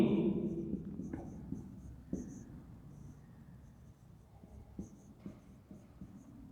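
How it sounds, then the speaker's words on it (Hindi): Marker or chalk writing on a board during a Hindi math lesson, with scattered scratchy strokes and taps under a quiet background, fairly faint and close. "तो यहाँ हम इसको लिख लेते हैं"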